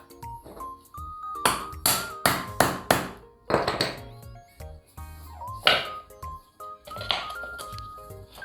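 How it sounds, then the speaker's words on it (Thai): Wooden pieces are hammered into a motorcycle tire for a DIY chair, giving a series of sharp, close knocks and thunks in irregular bursts, some ringing briefly, with no talking. "ตอกลงไปแบบนี้ทั้งสองฝั่งเลยนะครับ"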